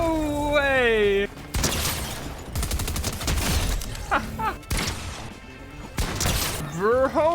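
Gunfire in the video game Fortnite: bursts of sharp shots crackle through the middle of the stretch, mixed with whooping, sweeping tones at the start and end.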